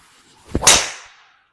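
A golf club swing topping the ball: a quick swishing whoosh followed by a sharp strike that fades out over about a second, close and alone.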